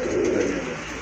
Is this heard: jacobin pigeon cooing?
yes